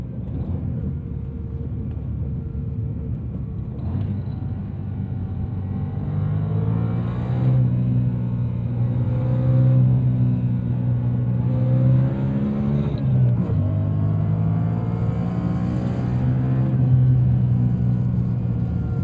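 A 2011 BMW M3 E92 Competition engine revs and rumbles steadily while driving, rising and falling in pitch with throttle changes over about twenty seconds, loud and close.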